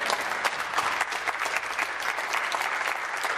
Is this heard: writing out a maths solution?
no